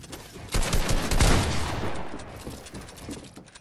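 A burst of rapid gunfire rings out during a Fortnite box fight in a duo tournament final, loud and close, with a dense cluster of shots that fades into rattling reverberation.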